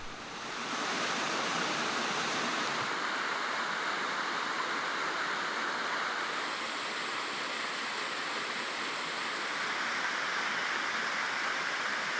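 Steady, loud broadband rush of a waterfall at the foot of its drop, reached by a rocky path in a Thai forest near a cool stream, constant throughout with no voices.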